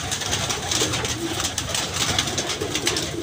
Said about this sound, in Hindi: इसी एल पे जो बैठा हुआ कबूतर